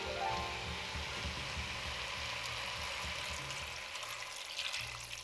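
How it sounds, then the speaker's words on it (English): About a liter of water streams into a pot of chicken noodle soup with a bay leaf, a steady, quiet splashing pour heard close up and alone. "it's time to add the water."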